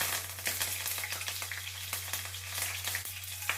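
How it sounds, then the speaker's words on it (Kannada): Mustard seeds, cumin and curry leaves crackle and sizzle in hot oil, a steady frying hiss dotted with small pops, close and fairly quiet, with no talking. "ಎಣ್ಣೆ ಕಾಗಿದೆ ಸಾಸಿವೆ ಜೀರಿಗೆ ಸ್ವಲ್ಪ ಕರಿಬೇವು"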